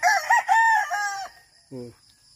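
A rooster crows loudly and close among gamefowl chickens on a rural farm in the Philippines, one long crow followed by a short low cluck.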